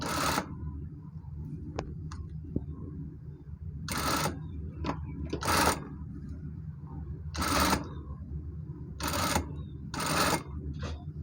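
A sewing machine stitches along the curved hem of a skirt, with the presser foot lifted now and then, giving several short, loud bursts of rapid stitching separated by pauses and soft clicks.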